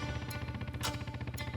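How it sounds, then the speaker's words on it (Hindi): A cruiser motorcycle engine idles in the background, a faint, steady low throb with a pulsing rumble under quiet ambient sound and no talk. "ये पीछे किसी मोटरसाइकिल की आवाज है।"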